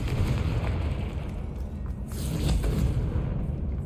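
Confringo and Bombarda spell explosions in the Hogwarts Legacy video game, low rumbling blasts with bursts of crackling debris, loud and boomy, the second blast swelling near the end.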